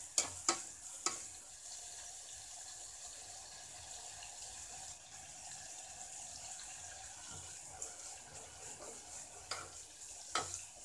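Neem leaves frying in oil in a pan to make neem oil, a quiet steady sizzle with a few sharp spoon knocks against the pan at the start and end.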